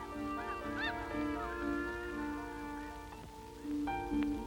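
Migrating geese honking, a flock calling in repeated overlapping honks at moderate distance, steady and unaccompanied by speech.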